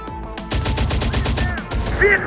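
Gunfire in the strategy game Terminator: Dark Fate - Defiance, rapid automatic bursts that rattle out loud and close in a fast rhythm, with a few whistling tones over the shooting.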